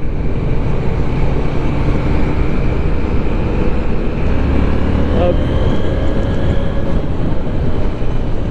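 A Husqvarna Svartpilen 801 motorcycle engine accelerating hard, a steady loud drone with engine tones climbing as the revs build, heard continuously throughout.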